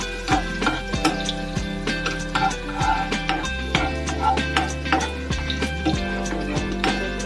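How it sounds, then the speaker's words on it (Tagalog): Garlic sautéing in hot oil for a Filipino ground-meat dish, a steady crackle and sizzle with scattered ticks and clinks of a utensil against the pan throughout. "Magigisa na tayo ng bawang"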